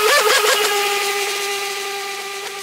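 M-Jet Supersprint RC jetboat motor at full throttle on 3S/4S LiPo power, a loud high-pitched electric whine that jumps up sharply at the start, then holds steady and fades slightly.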